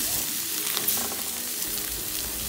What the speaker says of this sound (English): I added butter to the oxtail and now I'm going to fry it until it is brown